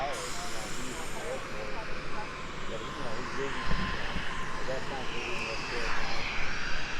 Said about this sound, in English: there's the 737 American pulling into the gate